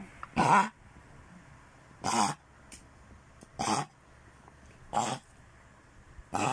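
A sick Shih Tzu coughs in short, harsh bursts, five or six of them spaced about a second apart, close by, with quiet pauses between.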